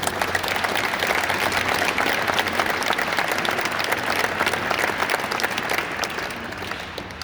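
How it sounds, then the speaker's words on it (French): Sustained audience applause at an air base event in Istres honouring civilian, military and volunteer helpers, dense steady clapping filling the space at even loudness for several seconds, no talk over it. "je vous demanderai de les applaudir"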